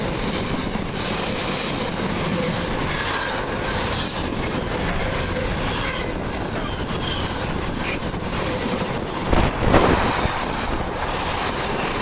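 Class 220 train 220031 races through Banbury at speed, a loud sustained rush of wheels and rail noise with wind buffeting the microphone and a brief louder burst near the end.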